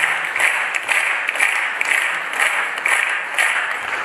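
Audience applause for an actor at a KVN comedy cup event, dense sustained clapping from a large crowd filling the hall, loud and even from start to finish.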